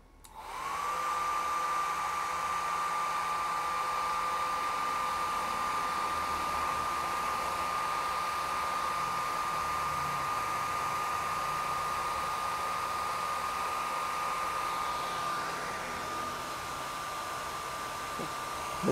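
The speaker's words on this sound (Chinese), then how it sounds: "吹风机的声音太大声了。" A hair dryer blows hot air at a car-camping exhaust fan, keeping up a loud, steady whirring drone with a constant high whine for most of the stretch before easing slightly near the end.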